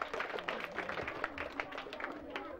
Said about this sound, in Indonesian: saya tepuk tangan buat semuanya